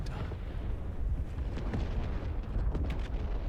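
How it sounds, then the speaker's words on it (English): Large fireworks explode in Final Fantasy XVI as a dense, continuous run of booms and crackling bursts, with a rumbling low end and a few sharper pops throughout, moderately loud and with no voices. "Fireworks, yay! Really big fireworks."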